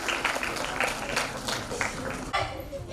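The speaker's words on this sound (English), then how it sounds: "Please give a huge round of applause to the students of Rgniyd Regional Center, Chandigarh." A crowd claps for students of the RGNIYD Regional Center, Chandigarh, after a clown theatre performance: dense, lively applause with sharper bursts of individual claps, mixed with some background chatter.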